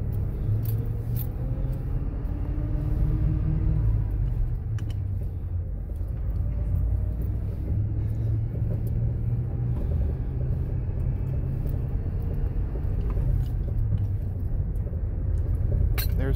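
A 1988 Ford F250 pickup climbs a hill in light snow, its low engine rumble steady from inside the cab, with faint clinks and rattles over it and no talking.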